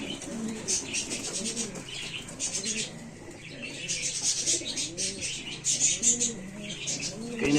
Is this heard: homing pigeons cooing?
yes